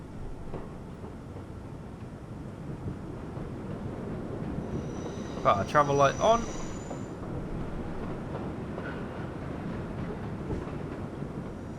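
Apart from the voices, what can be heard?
subway express train running, from video game World of Subways 4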